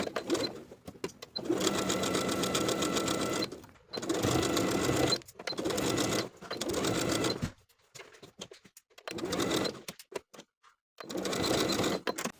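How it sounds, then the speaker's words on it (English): Close sewing machine stitching a zipper into a dress with a zipper foot, in several bursts of a few seconds each, separated by short pauses. "Sew the zipper in place from the top to the bottom using your zipper foot."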